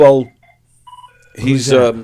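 A telephone rings briefly on a live radio comedy call-in show, a short tonal electronic ring between stretches of a host's voice talking near the microphone.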